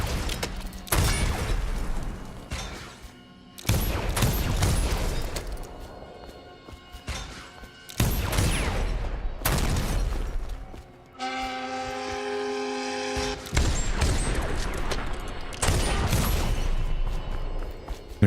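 Gunfire aimed at whale oil tanks in Dishonored brings a series of loud, blasting bursts, each several seconds long, with a brief ringing tonal blare between two of them.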